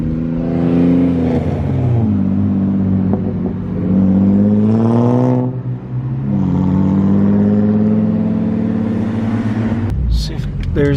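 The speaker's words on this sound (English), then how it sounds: "You like the sound of my clutch?" A BMW M3 engine revs up and falls back in repeated loud, close pulls, its note climbing and dropping between clutch changes, with a brief sharp burst near the end and someone talking over it.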